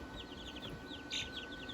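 Three-week-old chicks give a quick series of faint, high chirping peeps, light and rapid, in a quiet setting.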